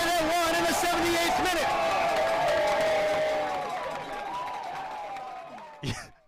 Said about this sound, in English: You can hear the crowd just go absolutely crazy